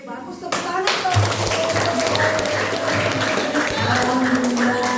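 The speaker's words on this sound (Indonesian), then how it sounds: "Oke, bagus, tepuk tangan dong." A classroom of students claps together, a fast, busy patter of many hands that starts abruptly and keeps going at a steady level, with voices mixed in underneath.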